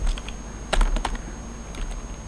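Typing on a computer keyboard during a CSS coding lesson, a quick cluster of close, crisp key clicks with a denser burst near the middle, then a few scattered taps, no talking.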